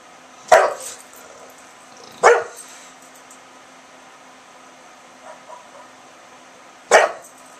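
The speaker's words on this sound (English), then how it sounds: "Are we barking at some little dog down the street that's barking back at you?" A dog barks three times in single sharp woofs, spaced a couple of seconds apart and fairly close, with a faint hum and quiet outdoor background between barks.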